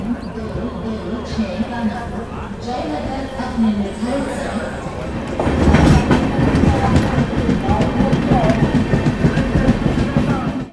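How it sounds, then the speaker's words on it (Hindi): The Garib Rath special train pulls out of Danapur railway station in Patna, heard from inside a 3rd AC economy coach. Its rumble and rhythmic clickety-clack grow louder partway through, with voices chattering nearby in the coach. "निकल चुकी अपनी गरीब रथ स्टेशन फर्स्ट एंड लास्ट पे पटना के दानापुर रेलवे स्टेशन से"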